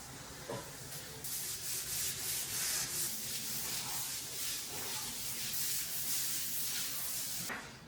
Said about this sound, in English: give it a good scrub with baking soda that I sprinkle in good quantity